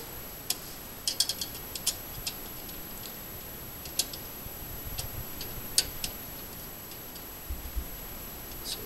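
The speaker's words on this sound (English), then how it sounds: "Screwdriver." A screwdriver tightens a screw while an Asus Nvidia GeForce GTX 670 graphics card is installed, giving sparse, faint ticking and ratcheting clicks scattered over a quiet background.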